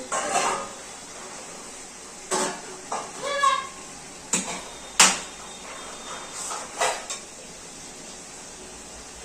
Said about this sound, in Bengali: আমার ঢাকনাটা তুলে